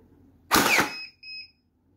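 A single sharp mechanical whir-and-thump burst from an X-Shot motorized piston pump foam dart blaster firing semi-auto, followed by a brief high electronic tone; a short motorized firing sound up close, then quiet.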